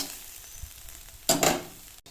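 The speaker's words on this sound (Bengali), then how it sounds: "পেঁয়াজটা ভাজা হয়ে যাবে, শাক ভাজাটাও হয়ে যাবে।" Quiet sizzling of radish greens and onion frying in a pan, with a brief louder burst of stirring near the middle before settling back.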